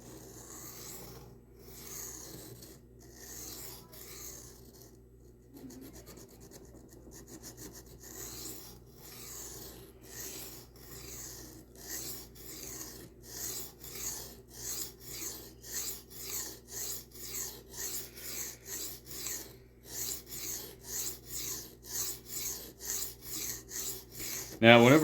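A knife edge is reprofiled on diamond sharpening plates with a long series of rhythmic rasping strokes. They start soft and sparse, then grow quicker, louder and closer together toward the end.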